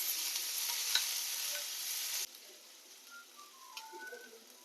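Chopped green chili and onion frying lightly with curry leaves in a pan, a bright hissing sizzle that suddenly drops to a quieter crackle with small pops.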